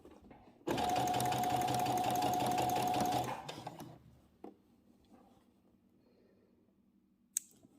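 An electric sewing machine stitches a zipper onto a dress, running in one loud steady whirring burst of about three seconds that then slows to a stop, followed by faint clicks and handling sounds, close by with no talking.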